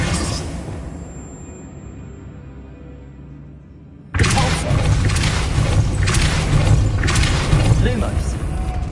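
Incendio fire spell cast in Hogwarts Legacy, first a quiet hum, then a sudden loud burst of whooshing flame with crackling and rumbling that roars on steadily.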